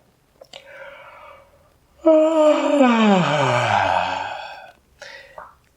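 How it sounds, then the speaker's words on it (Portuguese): A person gives a demonstrative yawn with voice: a long, loud, drawn-out sound that slides downward in pitch, preceded and followed by short softer breathy sounds. "O bocejo é um dos movimentos que mais dilata a garganta para sair o ar."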